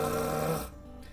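A person voices an imitation of snoring as part of a tongue-trill pronunciation lesson, producing a close, steady, raspy voiced rattle for about two-thirds of a second before it stops.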